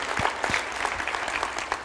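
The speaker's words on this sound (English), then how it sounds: "Let's give her another round of applause." Audience applause at a 2019 corporate governance symposium, a brief burst of steady clapping from a seated crowd.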